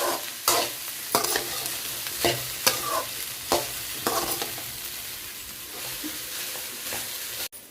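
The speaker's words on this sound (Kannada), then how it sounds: "ಇವಾಗ ಸೊ ಸ್ವಲ್ಪನೇ ಎಣ್ಣೆ ಹಾಕೊಂಡು ಫ್ರೈ ಮಾಡ್ಕೊಬೇಕು" Finely chopped okra fries in a little oil in a pan, with steady close sizzling broken by repeated loud scraping stir strokes, then settling into an even hiss.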